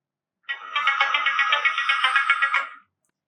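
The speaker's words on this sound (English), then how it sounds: "we have successfully set a custom ringtone on our Samsung phone" A custom ringtone plays on a Samsung Galaxy A17 phone, a bright rhythmic melodic pattern of quick repeated notes lasting about two seconds, clear and alone.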